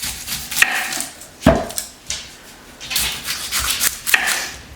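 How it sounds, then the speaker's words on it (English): A knife cuts through onions on a board in a home kitchen, several separate dull thuds and scraping rubs spaced unevenly, close and moderately loud with no voices. "I'm going to start cutting my onions up."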